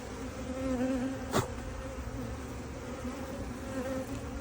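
Honey bees buzz steadily and close by while a first beehive is moved to a new box, a continuous droning hum with one brief sharp knock partway through.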